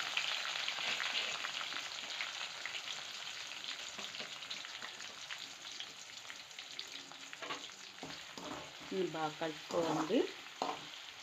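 Curry leaves, crushed garlic and onion sizzle and crackle steadily in hot oil while being stirred for gongura pickle, a close, continuous frying hiss with spoon scrapes and a few louder bursts near the end, with brief speech.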